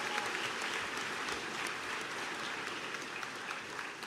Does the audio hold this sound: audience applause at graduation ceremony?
yes